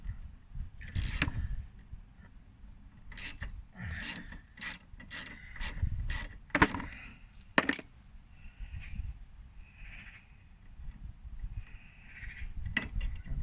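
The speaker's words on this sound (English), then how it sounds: "just whack off this screw here, which you can either use a flathead or an 8mm" A screw comes off a lawn mower with a flathead or 8mm tool, making a run of sharp metallic clicks and ratcheting taps, then softer scraping and fiddling nearby.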